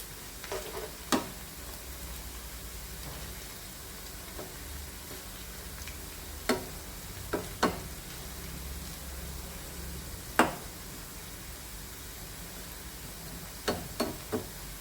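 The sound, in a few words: potatoes sizzling while frying in a pan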